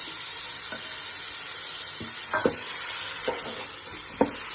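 Ground green masala paste for mutton keema fries with a steady hiss. Several sharp spoon knocks and scrapes from stirring punctuate it, close and fairly quiet, with no voices.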